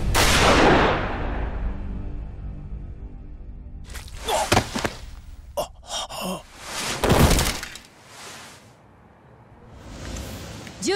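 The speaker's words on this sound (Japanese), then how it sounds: "銃声がしたから駆けつけたのよ。" Gunfire in the action game Yakuza Kiwami 2, a few sharp loud bursts around the middle of the stretch over a game soundtrack and ambience, with a groan-like vocal sound near the start.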